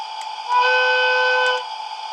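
A DCC sound decoder in an LGB Stainz 70302 model locomotive sounds a steady electronic horn or whistle tone for about a second, rising out of a quieter background hum, with no talking.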